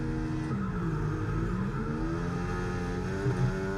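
Race car engines rev at the start of an F1 24 video game race, a loud steady high-pitched whine with rising tones layered over a constant low drone.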